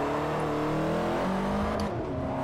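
A 556 HP front-wheel-drive Volkswagen New Beetle in Forza 4 accelerates at full throttle, its engine droning loud and steady with pitch climbing gradually, then a brief shift-like break near the end.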